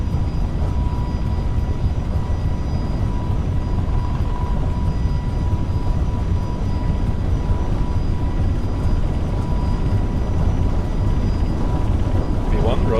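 Steady, loud roar of FSLabs A321LR engines at takeoff thrust in a flight simulator, a dense continuous rumble that holds level throughout with no change in intensity.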